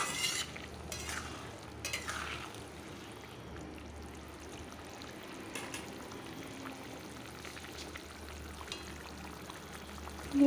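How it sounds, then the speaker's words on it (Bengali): Fried eggs being gently stirred into a potato curry in a pan: soft, sparse scrapes over a low bubbling background, fairly quiet, with no talking. "হালকা নাড়িয়ে দিচ্ছি।"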